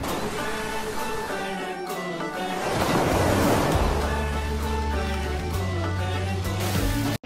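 Sea waves at Shrivardhan beach on the Konkan coast roar steadily as a loud, continuous wash of surf, swelling around the middle and carrying on with a low rumble beneath, with no talk.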